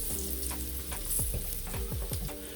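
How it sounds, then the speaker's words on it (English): Garlic sizzles steadily in a frying pan, a loud, close crackle. A utensil scrapes and stirs through it now and then, with no one talking. "I don't want to burn it, so just keep an eye on your garlic."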